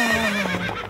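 A horse gives a loud, close whinny, a single wavering neigh lasting about a second that falls in pitch toward the end, heard alone without talk.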